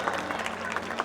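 An audience at a children's annual school concert claps in a brief, patchy burst of applause, with a voice speaking over it.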